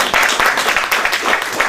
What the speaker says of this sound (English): give yourselves a big round of applause for being here tonight.